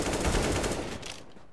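Rapid automatic gunfire from an AK rifle in CS:GO on the Dust2 map, a short loud burst of close shots that fades out after about a second.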